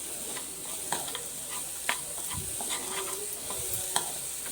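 Jaggery and coconut fry together in a pan, making a soft continuous sizzle broken by scattered scraping and stirring clicks from a utensil, fairly quiet and close.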